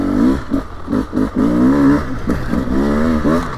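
A 2024 Beta 300 Race Edition dirt bike engine revs loudly and close in freezing cold, its two-stroke note rising and dropping in repeated blips with no talk over it.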